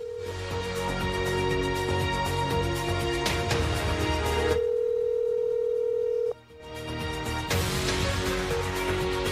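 A telephone earpiece carries a steady, loud electronic tone that holds on for several seconds, cuts out briefly, and then comes back, with no speech over it.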